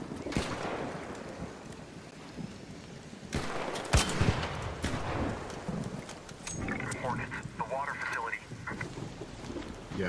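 Bursts of video game gunfire aimed at a target, sharp cracks and short rapid volleys over a windy, noisy background, with people talking throughout.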